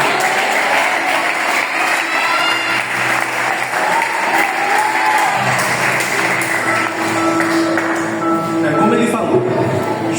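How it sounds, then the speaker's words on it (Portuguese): A church congregation applauds together, a steady, dense wash of clapping filling the room throughout, with some tonal sound from music or voices rising alongside it near the end. "Aplauda o Senhor, por favor."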